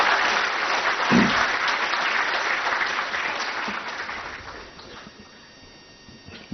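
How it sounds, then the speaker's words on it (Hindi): An audience claps for newly appointed medical officers at an official ceremony, a steady wash of applause that gradually tapers off toward the end. "जोरदार तालियां बजाकर सबका उत्साहवर्धन करें।"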